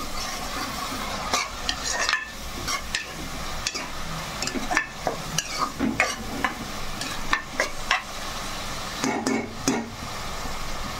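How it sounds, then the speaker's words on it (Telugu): Onions fry in a pan and are stirred briskly, giving a sizzle broken by repeated clatters and scrapes of a spoon against metal at an uneven pace, close and fairly loud. "చక్కగా ఉల్లిపాయలు ఇలాగ చక్కగా వేసుకోవాలి."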